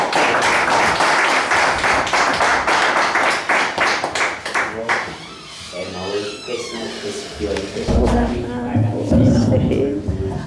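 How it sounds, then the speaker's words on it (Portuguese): Church congregation at a vigil clapping for the Holy Spirit: rapid dense applause for about five seconds, then fading as voices speak and call out over scattered sounds. "Uma salva de palmas para o Espírito Santo de Deus."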